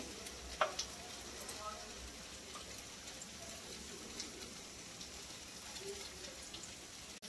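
Potato patties shallow-fried in a little oil, producing a faint, steady crackling sizzle throughout, with a couple of brief clinks and muffled talk in the background.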